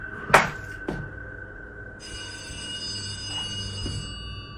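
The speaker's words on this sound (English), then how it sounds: "He rounds a corner and then a phone starts to ring." An old telephone that is not plugged in rings in a separate room, a steady electronic bell tone sounding alone, with a couple of sharp knocks at the start.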